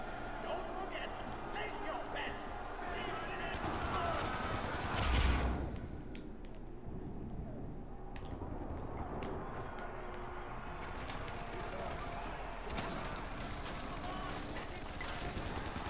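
Minigun fire from a heavy enemy in a Far Cry 4 arena match, rapid sustained bursts of gunshots over continuous game noise, with someone talking over the action.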